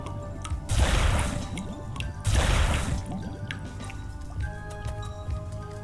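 Empty jars are filled with water in the game Wytchwood. Two splashy, gurgling pours sound a couple of seconds apart, each about half a second long, followed by light drips and small clicks.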